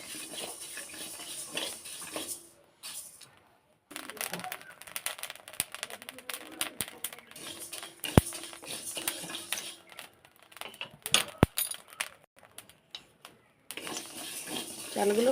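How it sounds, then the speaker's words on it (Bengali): Rice grains are dry-roasted in a kadai for jaggery laddus, giving dry, scratchy rattles and crisp clicks as they are stirred. The stirring comes in irregular bursts with brief silent gaps and a few sharp knocks. "চালগুলোকে ভালো করে ভেজে নেব।"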